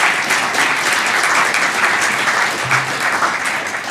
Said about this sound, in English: give a round of applause to the organizers for yet